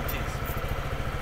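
Daytona ADV scooter with a 125 engine held at a low, rapidly pulsing rumble during a burnout, a close, continuous throbbing chug.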